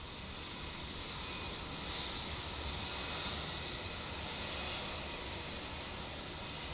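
A Qantas Boeing 737-800 jet departs Melbourne Airport, its engines giving a steady, loud broadband roar that holds throughout with no pause and no talk.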